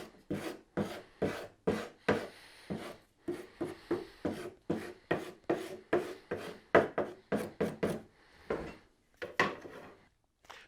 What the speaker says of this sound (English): he has attached some sandpaper to the bottom of his speed square.